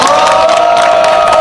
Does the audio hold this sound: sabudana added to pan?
no